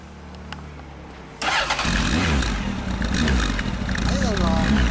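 A Honda CB1300 Super Bol d'Or (SC54) motorcycle engine cranks and catches, then settles into a loud, steady idle close by.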